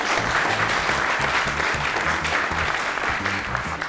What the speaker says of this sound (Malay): Berikan tepukan kepada General Manager Commercial Mr. Chong Vun Chung dan juga General Manager Flour Malaysia Mr.